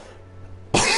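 A single loud, abrupt cough bursts out near the microphone after a short stretch of quiet room hum.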